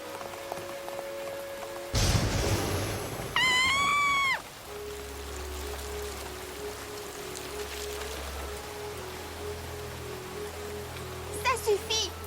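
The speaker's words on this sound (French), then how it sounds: "Il pleut de plus en plus fort, Apple Bloom." Cartoon rain sound effect, a steady soft patter hissing throughout, joined by a sudden loud splash and a quick rising-falling tonal squeal, with a low rumble underneath; no clear voices.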